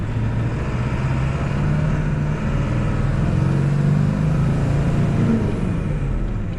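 An old high-mileage truck engine labors steadily uphill in low gear, a loud continuous low rumble with slight rises in pitch as it strains, heard up close from inside the cab with no talking.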